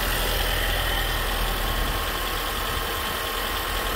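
Engine of a 2012 Nissan Juke idling steadily after an alternator replacement, a constant close, even hum with no change in pitch and no talking.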